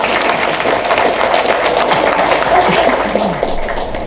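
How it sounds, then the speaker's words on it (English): A dense round of applause from an audience at a corporate technology event fills the room, with steady clapping throughout and some crowd noise mixed in. "Give me a round of applause."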